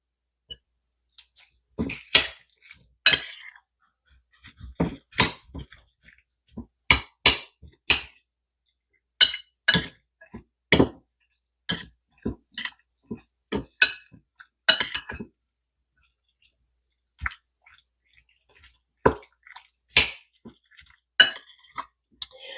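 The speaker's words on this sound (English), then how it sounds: "Let me grab a spoon to stir." A spoon clinks sharply against the sides of a glass while stirring, in irregular bursts of bright taps with short quiet gaps between them, close by and with no talking.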